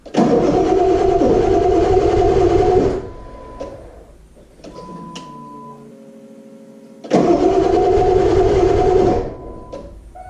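A 20-year-old Ford F-350 diesel truck engine with a starting problem cranks loudly for a few seconds, stops, then cranks again in a second long grinding burst; quieter mechanical sounds fill the gap.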